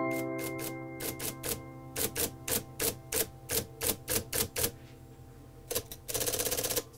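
Crisp typewriter keystrokes in a steady run of about a dozen sharp clacks at a typewriter shop, followed by a pause, then a faster rattling burst near the end, close and loud with no talking.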